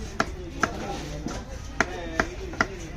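A knife chops through a big squid at a Kasimadu fish market, giving about six sharp, evenly spaced thuds on a board over a low background murmur.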